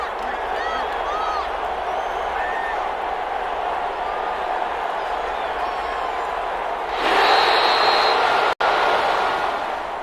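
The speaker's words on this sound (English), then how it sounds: "And the home crowd applauding." Home crowd at the end of a Detroit Lions versus Tampa Bay football game, a sustained stadium roar that swells into louder applause and cheering near the end, dense and continuous.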